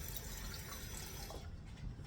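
Water is poured into a cooking pot of liquid on the stove, a quiet, steady splashing rush that runs without pause and with no voices over it.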